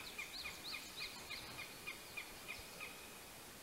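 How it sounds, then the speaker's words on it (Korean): Birds sing outdoors, a faint, distant series of short, evenly repeated high chirps over a steady hiss of open-air background. "새소리가 좋고"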